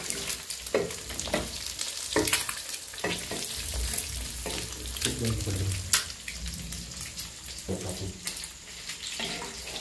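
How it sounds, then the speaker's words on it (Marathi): An egg dropped into hot oil on a tawa sizzles and crackles steadily, with bursts of spattering and occasional scraping stirs, a close, continuous frying hiss throughout. "जेव्हा अंडे असं आपण तेलामध्ये सोडून घेतलेले"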